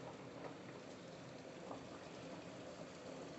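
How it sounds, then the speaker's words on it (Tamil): Spaghetti simmers in a pot of salted water, giving a soft, steady bubbling and fizzing boil, faint and continuous with no talking. "ஸ்பெகட்டி வெந்துகிட்டுருக்கு பாருங்கள்."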